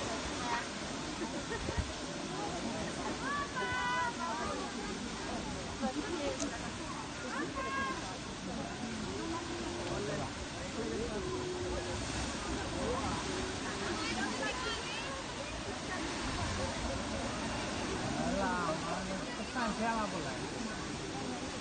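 Steady rushing water from a waterfall at a Sydney beach, a broad continuous roar filling the whole clip, with a crowd's chatter and voices mixed in throughout.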